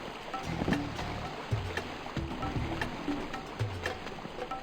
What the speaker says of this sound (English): I hear water behind it.